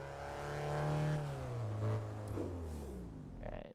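In the Test Drive Unlimited 2 racing game, a car engine revs in neutral, its tone swelling and falling over a few seconds before cutting off abruptly, loud and close with no speech.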